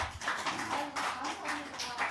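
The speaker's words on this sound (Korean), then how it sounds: "박수 한번 쳐주세요" Audience applause at a Buddhist monk's talk, a dense, steady wash of hand clapping held at an even level throughout, with faint voices mixed in.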